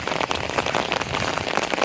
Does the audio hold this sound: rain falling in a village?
yes